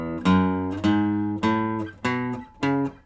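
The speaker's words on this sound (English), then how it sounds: "how to play the major scale on one string" Guitar plays single notes one after another up a single string, five clear plucked tones about half a second apart, each ringing and decaying before the next.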